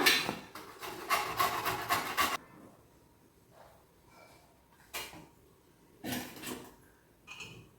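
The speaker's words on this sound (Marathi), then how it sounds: "करंजी सारण बनवण्यासाठी सगळ्यात आधी आपल्याला सुकं खोबरं किसून घ्यावं" Dried coconut scraped by hand on a grater in a home kitchen for karanji filling, a rapid run of rasping strokes followed by a few sparser scrapes and light knocks, close up.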